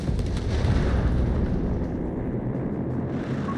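Artillery and explosions from Company of Heroes 3, a real-time strategy war game, form a dense, continuous low rumble of booms throughout, loud and unbroken. No distinct voices come through.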